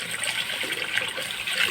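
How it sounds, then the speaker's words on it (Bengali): Water poured into a cooking pan (kadai) while making a village-style jujube pickle, a brief steady splashing trickle heard close up. "এবার এবার জল দেব।"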